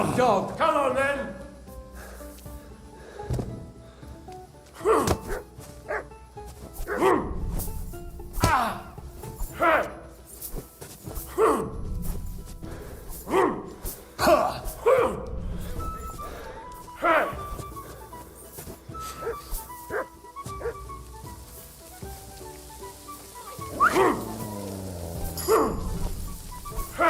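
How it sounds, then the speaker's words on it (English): A dog in Kingdom Come: Deliverance II barks now and then through a noisy brawl, with thuds and strikes and people shouting and talking throughout. "Off that dog!"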